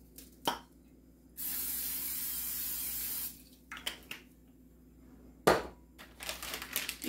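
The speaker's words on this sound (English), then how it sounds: "I'm going to spray it lightly." Cooking oil sprayed from a can into a Dutch oven before browning ground beef: one steady hiss of about two seconds, close and clear, between clicks and clanks of handling.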